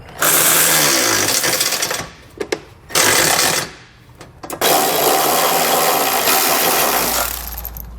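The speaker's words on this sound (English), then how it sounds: "you want to grab a 14mm socket, and we're going to snug all the bolts down" Power tool snugging down trailer hitch bolts with a 14mm socket, loud rattling impact bursts in several runs of one to three seconds separated by short pauses, close up with no talk.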